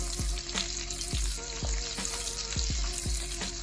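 Onions frying in a pan as the base for braised oxtails, a steady loud sizzle with a few soft knocks of stirring, close up and without speech.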